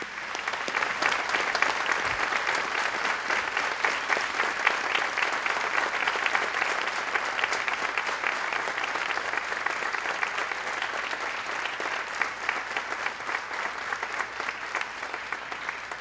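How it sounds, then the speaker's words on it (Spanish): An audience gives continuous applause for a brass quintet at a religious music festival, a dense, even wash of clapping that holds steady throughout at moderate loudness. "pido un aplauso para ellos que hacen hoy parte de este quinteto"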